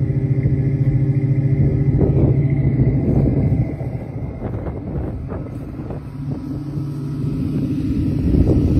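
A 1972 Ford Mustang's engine idles high on the choke just after a cold start, a steady close rumble with a droning low hum that eases slightly midway, with no talking.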